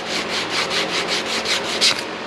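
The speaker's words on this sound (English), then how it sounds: "so I'm using like a 180 grit sandpaper" Rhythmic back-and-forth sanding strokes of 180 grit sandpaper on a golf cart's metal part, stripping a yellow coating; about ten steady scrapes, close and fairly loud, no talk.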